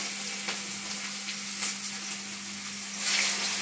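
Onions frying in hot oil with bay leaves after potatoes, a steady close sizzle with a constant electrical hum underneath and a brighter burst of crackling near the end.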